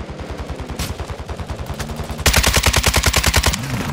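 Rapid gunfire in Modern Warfare 2, steady bursts of shots throughout that grow louder and denser midway, a fast rattling volley before tapering off, with no talking.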